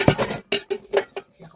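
A few separate clinks and knocks of dishes and a wok being handled in a home kitchen, sharp and close, with short quiet gaps between them and no voices.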